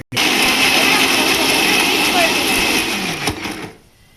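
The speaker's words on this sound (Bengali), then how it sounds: "মশলাটার মধ্যে হালকা পরিমাণে পানি দিয়ে ব্লেন্ড করে নিতে হবে।" A blender grinds whole spices with a little water into a paste, loudly and continuously at close range, a harsh high whirring drone that winds down and stops near the end.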